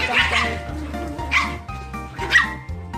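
Small dogs at a dog kindergarten and hotel bark in several short, sharp bursts, close by and fairly loud, with a little whimpering between the yaps.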